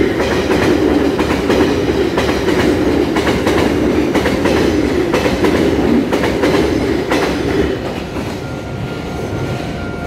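Taroko Express train rumbling steadily past at close range on a Taiwanese line, loud continuous roar with rhythmic wheel clatter, easing slightly toward the end.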